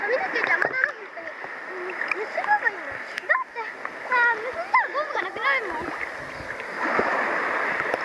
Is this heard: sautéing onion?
no